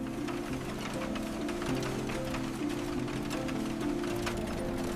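Steady, dense mechanical clatter with ratcheting and grinding tones, a continuous loud din of 1900s Liverpool factory machinery with no voices.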